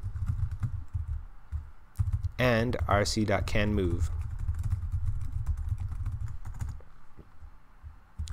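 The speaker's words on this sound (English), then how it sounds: "I realize I'm typing this in the wrong place." Rapid clicking keystrokes on a computer keyboard clatter steadily and close up while someone talks over them, pausing briefly as he speaks.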